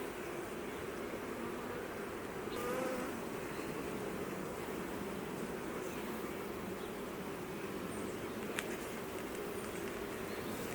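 Honey bees hum steadily around an open hive during an inspection on a hot day, a dense, even buzz from many insects close by with no talking.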